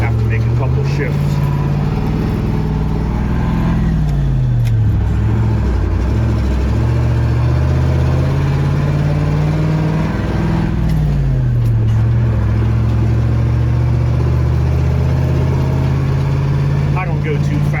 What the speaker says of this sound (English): excuse me while I pull out here and have to make a couple shifts.